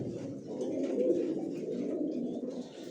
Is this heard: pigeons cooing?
yes